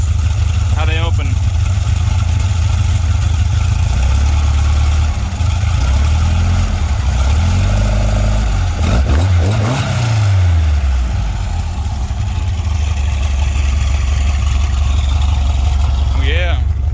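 A VW Volksrod engine fitted with Weber IDF carburetors idles at about 700 RPM, a loud, steady low throb close by. The pitch rises and falls briefly midway, and a voice talks over it.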